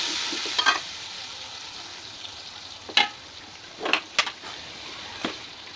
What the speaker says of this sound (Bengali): এখন আমি এটা দিয়ে মশলাটা ভালো করে ভেজে নিব।